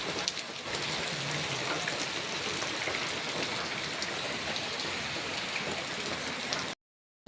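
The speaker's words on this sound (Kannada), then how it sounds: "ಮಳೆ ಸ್ಟಾರ್ಟ್ ಆಗಿದೆ ಗಾಯ್ಸ್." Rain pours steadily near a temple where people sit, a dense even hiss of drops on surfaces that fills the clip before cutting off abruptly near the end.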